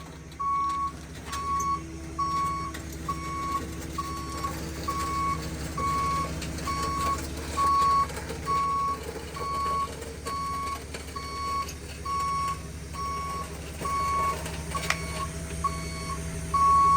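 A tow truck gives off a steady series of evenly spaced reversing beeps as it backs up, moderately loud over a low engine rumble, with no talk.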